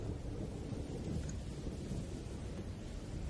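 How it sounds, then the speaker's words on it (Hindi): Steady rain falling in an outdoor scene, a dense even wash of noise with a low rumbling undertone, continuous and fairly close throughout with no voices. "जो अलग शुरू हो गई बारिश।"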